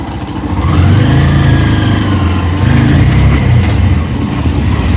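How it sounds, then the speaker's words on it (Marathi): A motor vehicle carrying sadhus drives along, its engine droning steadily and loudly throughout with a slight rise in revs, close and continuous with no talk. "बघा सगळे साधू गाडी चालवतात"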